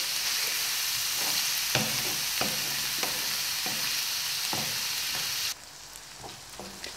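Minced meat and onion fry and sizzle steadily in a pan, with repeated scraping stirs every half second or so before the hiss suddenly drops lower near the end.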